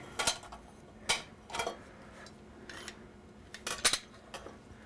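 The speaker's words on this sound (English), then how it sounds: "You just squeeze your potato right through into the bowl." A handheld potato ricer presses cooked potato into a bowl, giving a handful of sharp metallic clicks and clanks in irregular bursts, close and fairly quiet.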